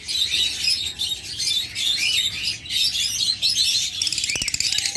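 Pet birds kept for sale chirp and twitter continuously, with many overlapping high, rapid calls close by and no talk.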